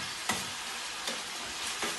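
Paella valenciana ingredients fry in a pan with a steady, close sizzle and crackle, broken by a few louder bursts as the food is stirred. No voices.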